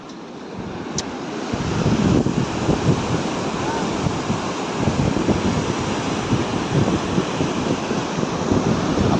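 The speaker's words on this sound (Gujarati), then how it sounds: "ગેટ ખુલ્લો છે ને મસ્તીનું પાણી આવે છે" Loud, constant roar of water rushing through an open gate of Khodiyar Dam at Dhari, with heavy low rumble and wind buffeting the microphone, swelling after a quieter first second.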